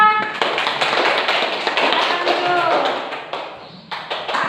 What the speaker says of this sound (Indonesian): beri tepuk tangan untuk kelompok Santia